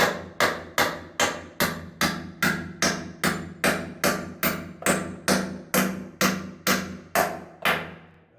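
Nails being driven into wood with a hammer: about sixteen sharp, evenly spaced strikes, close and alone, each ringing off briefly before the next blow.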